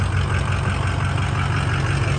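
A diesel mud truck engine, a budget build, running steadily close by with a low, constant rumbling drone and no talk.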